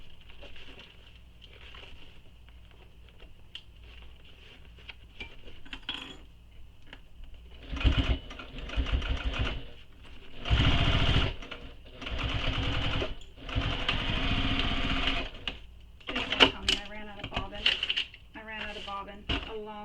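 A sewing machine stitches a bowler bag in several short separate bursts over a background hum. Handling clatter and brief sounds are mixed in.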